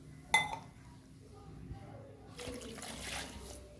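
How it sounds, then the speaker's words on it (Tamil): A single clink of a metal tumbler, then a short, soft splashing pour of water into flour in a pot for a diabetic-friendly porridge breakfast, faint and close in a quiet kitchen. "5 டம்ளர் இல்லைன்னா 4 டம்ளர் தண்ணி ஊற்றிக்கிறேன்"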